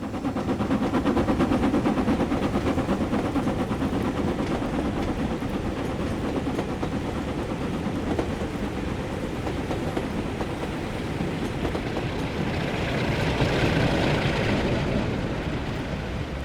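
Jacobite steam train 45212 passing by Loch Ill, outward bound to Mallaig, with loud continuous rumble and rapid rail clatter building and easing as it goes by.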